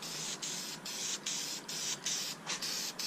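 Wrinkle paint sprayed from a can onto an engine valve cover, heard as a steady hissing spray in repeated bursts of about half a second, each broken by a brief pause, close and alone.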